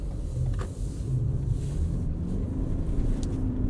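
A 2021 Toyota RAV4 Prime XSE drives in winter conditions, a steady low engine and road rumble heard from inside the cabin, rising and falling slightly as the throttle is feathered.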